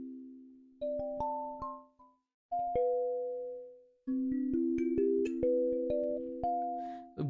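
A small tined instrument, such as a kalimba, plucks the Toreador March as a melody of clear, ringing single notes. The notes come in short phrases with brief pauses between them, played alone and fairly softly.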